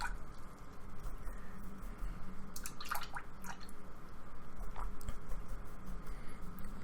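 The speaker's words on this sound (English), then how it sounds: "So I'll just wash my brush in some water." A paintbrush swished and tapped in a cup of water while acrylic painting, with soft sloshing and dripping splashes that are faint and close over steady background hiss.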